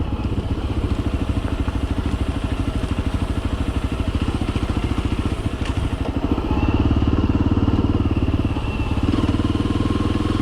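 A motorcycle engine runs close by with a steady, rapid thumping pulse, revving slightly louder midway before settling back to its even beat.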